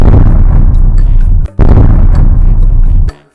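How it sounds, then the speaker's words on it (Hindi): Firecrackers set off inside an underground wooden house crackle and burst in a dense, loud, continuous roar of pops and booms, with one brief break midway before the barrage resumes. "पटाखे जलने लगे तो ये खुशी से उछलने लगा।"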